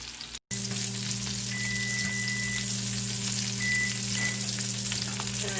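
Pork chops browning in a frying pan for balsamic and jam pork chops, a steady, even sizzle with a low hum underneath and a brief dropout near the start, no talking.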